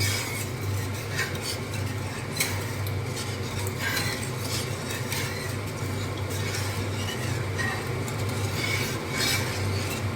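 Spices are stirred into water in a pan for a katla fish and potato curry, making a steady soft scraping and swishing with light utensil clinks over a constant low kitchen hum.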